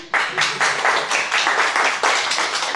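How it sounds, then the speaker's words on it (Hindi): An audience at a sales and marketing seminar claps in a few loud, rhythmic bursts of group clapping with brief pauses between them. "तालियां बजाएं इनके लिए क्लैपिंग करें इनके लिए इतनी मरी हुई ताली"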